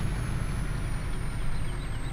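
Iveco truck in Farming Simulator 15, a brief dense hissing air-brake rush over a low rumbling engine, close and steady.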